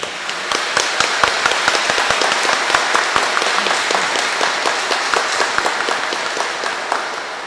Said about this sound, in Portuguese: A todos saudamos com uma bonita salva de palmas.